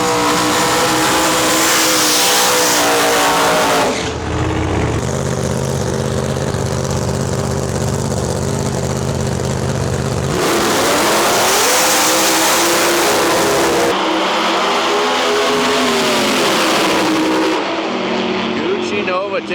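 Nitrous-fed drag racing car launching and accelerating hard down the strip at a pro mod event, a loud roaring engine rising in pitch with brief gaps between passes, under a commentator's talk.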